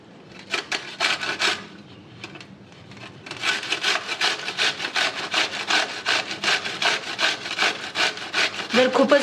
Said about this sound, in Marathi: ही काकडीच मी आता साल्यासकटच किसणार आहे